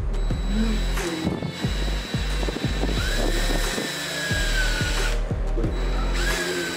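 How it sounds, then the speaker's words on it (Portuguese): A handheld power drill bores pilot holes into the edge of MDF during box assembly. It runs in repeated short, close, whining bursts with brief pauses between them, and no talk is heard. "Eu vou fazer pré-furos para evitar de trincar o topo do MDF."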